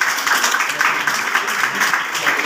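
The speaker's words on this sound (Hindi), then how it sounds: "एक जोरदार ताली" A classroom crowd applauds a student's test result with dense, steady clapping from many hands, close and loud throughout, with no voices rising above it.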